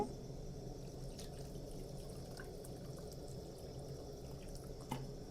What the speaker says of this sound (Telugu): కొన్ని వాటర్ అయితే పోస్తాను నేను